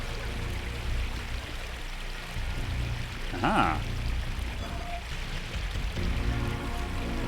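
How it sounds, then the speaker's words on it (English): A waterfall pours in the video game Unreal, a quiet, continuous wash of falling water heard throughout, interrupted once by a short spoken exclamation midway. "I allow the waterfall to pour over me."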